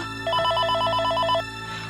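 A telephone rings at home with a repeating electronic trill, about a second of rapid pulsed tones over a steady background hum, with no talking.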